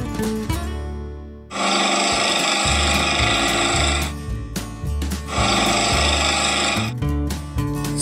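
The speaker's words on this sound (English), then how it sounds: "Police speed boat." A toy police speed boat gives two loud bursts of buzzing motor noise, each lasting a few seconds, with a lower tonal pattern between and around them. No one speaks.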